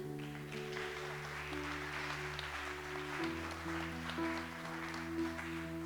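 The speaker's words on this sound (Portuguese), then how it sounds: "Dê um aplauso ao Senhor" Congregation clapping at a church celebration service, a steady wash of applause with sustained music tones underneath throughout.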